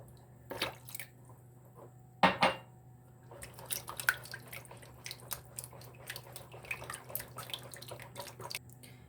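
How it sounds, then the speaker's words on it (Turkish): Milk and a glass of yogurt are stirred together in a bowl for soft bakery-style poğaça dough, giving wet squishing and sloshing with light spoon-on-bowl clinks and one sharper knock early on, close and alone. "Bütün sıvı malzemeleri iyice karıştıralım."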